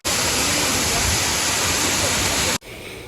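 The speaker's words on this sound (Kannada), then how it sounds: "ಫಾಲ್ಸು ನನ್ನ ಕಣ್ಮುಂದೆ ಇದೆ" The Banagara Balike waterfall pours with a dense, roaring wash of falling water close by. The roar stays steady for most of the clip, then cuts to a quieter ambience near the end.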